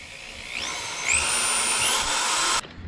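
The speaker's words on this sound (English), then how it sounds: "I'm going to drill a hole right about in here somewhere to bring the wire through" A power drill whines to life and bores a hole in the tailgate of a Nissan Frontier pickup steadily for about two seconds, its pitch climbing as it bites in, then stops abruptly.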